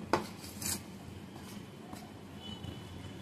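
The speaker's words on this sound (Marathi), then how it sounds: "आता ते चमच्याने ढवळून घ्यायचं, मिक्स करायचं" A spoon stirring a traditional Rishi Panchami vegetable dish in a pot, a couple of sharp metallic clinks early on, then quieter scraping and taps, fairly faint.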